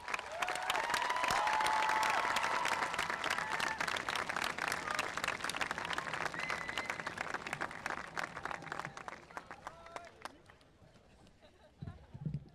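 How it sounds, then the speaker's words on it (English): The audience at the Beverly Hills High School class of 2000 commencement ceremony applauds at length, a broad sustained roar of clapping with individual claps standing out, gradually thinning toward the end as a voice comes in. "Please join with me in once again applauding the Beverly Hills High School class of the year 2000."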